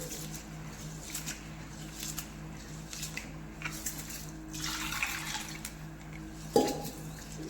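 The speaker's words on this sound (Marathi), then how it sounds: "दोन ते तीन पाण्याने स्वच्छ अगोदर तांदूळ धुवून घ्यायचे" Ration rice being rubbed and rinsed in water in a bowl, with soft, intermittent swishing and splashing over a steady low hum, a fuller wash of water midway and a sharp knock near the end.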